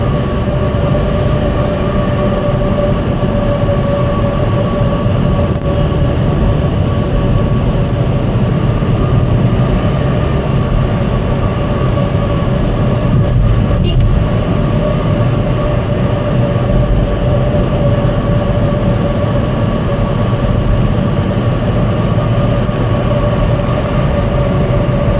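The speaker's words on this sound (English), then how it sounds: "I like tunnel noise, so if you don't like it, just fast forward 20 seconds." A train travels through a tunnel with a loud, continuous rumbling roar and a steady hum and whine, unchanging throughout, heard from inside the carriage.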